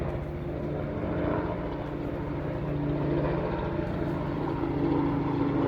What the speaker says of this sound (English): I hear a helicopter somewheres.